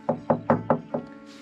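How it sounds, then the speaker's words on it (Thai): Five evenly spaced knocks on the stock fuel tank of a GPX Demon GR200R motorcycle, each a close, resonant hollow thud that rings briefly before the next, with the last one fading off. "นี่ก็ถังเดิม ถ้าเคาะไปจะรู้สึกถึงความงงเงง"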